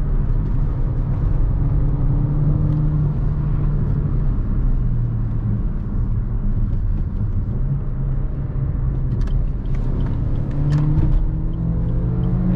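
A Suzuki Vitara 1.4 Boosterjet 140-horsepower engine runs steadily with a low rumble, building slightly as the car accelerates on a twisty road, with no voices.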